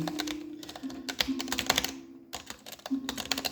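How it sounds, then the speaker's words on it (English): Rapid typing on a computer keyboard, a dense run of clicks that pauses briefly and then resumes, over a steady low hum. "someone's typing."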